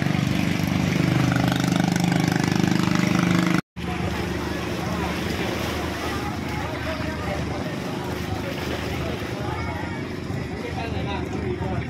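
A motorboat engine on a river ferry boat at a crossing in Bocaue, Philippines, drones loud and steady throughout, broken by one brief dropout early on.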